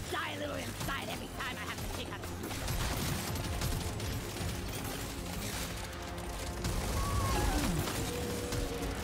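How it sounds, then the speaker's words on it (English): Rapid spiral gunfire in Deep Rock Galactic: Survivor, a dense, continuous rattle of weapon shots mixed with game effects under someone talking. "Now you can see it's shooting in a spiral."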